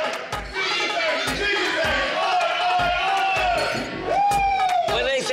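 A lively crowd chanting and shouting a rhythmic cheer in repeated bursts, loud and close, with a drawn-out wail and voices talking amid the noise.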